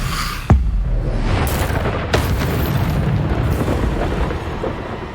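A Confringo blasting spell in Hogwarts Legacy goes off with a loud, close booming explosion, followed by a second burst about a second and a half later and then a long rumbling roar.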